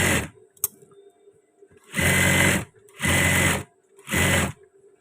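A sewing machine stitches a men's Korpri uniform shirt in three loud, even bursts of rapid mechanical whirring, separated by short quiet pauses with small clicks.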